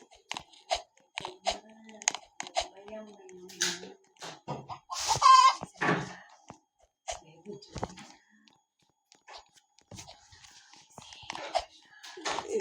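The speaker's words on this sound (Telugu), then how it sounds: "నిజమేరా, కోడి శబ్దం వస్తుంది కదలా." Chicken clucking from a horror parkour video game comes in short, scattered bursts among clicks and crunchy noises, with a brief louder squawk near the middle and quieter gaps between.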